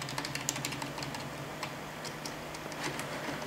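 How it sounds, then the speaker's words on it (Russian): Keys on a computer keyboard click lightly and unevenly close by while a BIOS update is under way, with no talking heard. "теперь нажимаю кнопочка Delete"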